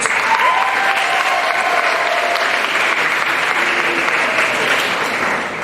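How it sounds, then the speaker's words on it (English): Loud, full audience applause fills a pageant hall, a steady roar of many hands clapping with faint crowd murmur underneath, holding at the same level throughout. "So, round of applause for her."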